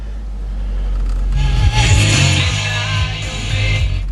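A 2012 Cadillac CTS-V coupe with a 556 hp engine idles with a deep, steady rumble, then rises into a louder, fuller running note that holds close and continuous, with no voices.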